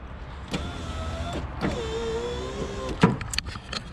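A car power window motor fitted with a new window regulator on a Mitsubishi Lancer Evolution VI runs in several separate whirring strokes, each a steady electric motor whine that starts and stops with a small clunk. The sound is close and clear, with no talking.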